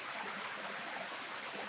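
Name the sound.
river flowing near Sum village, Himachal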